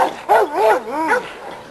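A dog gives a few short, rising and falling yelping barks close by, with a faint whine between them.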